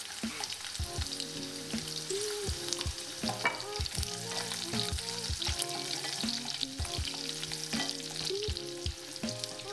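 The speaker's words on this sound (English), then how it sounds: "Cook the garlic for a few minutes before adding the next ingredient." Chopped garlic with dried chilies frying in a pan for green tomato chutney, a continuous close sizzle under a humming, tonal background, with repeated soft stirring knocks and scrapes throughout and no voices.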